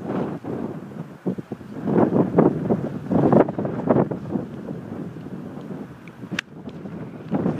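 Strong wind gusts buffet the microphone on a windy day at a golf tee, a loud rumbling roar that rises and falls in bursts.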